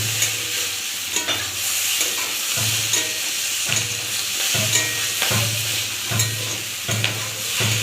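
Vegetables sauté in a pan while being stirred, a loud close sizzle broken by regular rhythmic scraping strokes about every second, with no voices.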